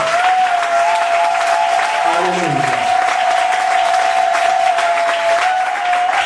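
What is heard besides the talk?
congregation applauding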